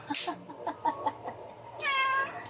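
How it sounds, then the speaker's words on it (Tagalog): A pet cat near a kitchen sink gives a few short, soft meows close by, followed by a longer, clearer meow at the end. "Ang aking mga pusa, kapag nandito ako sa lababo, nakaakyat sila dun sa kabila."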